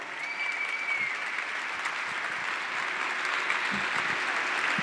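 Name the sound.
audience applause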